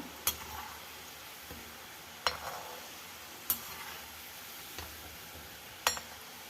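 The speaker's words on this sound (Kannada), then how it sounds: "ಈಗ ನೋಡಿ ಇದನ್ನು ಈ ಥರ ಪ್ಲೇಟಿಗೆ ತಗೊಂಡ್ರೆ ಈ ಥರ ಸೌಂಡ್ ಬರುತ್ತೆ" Fried kodubale snacks dropped onto a plate, giving five or six sharp, light clinks spaced irregularly over a soft background hiss.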